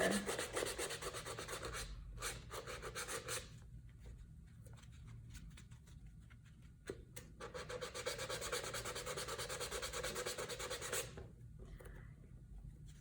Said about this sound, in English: when I'm doing this first round of sanding, I'm not trying to get it perfect